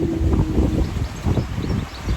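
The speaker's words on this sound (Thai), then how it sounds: "ลมแรงต้องจับไว้" Strong outdoor wind buffets the microphone in low, rumbling gusts that rise and fall steadily over the whole stretch, with no clear talk.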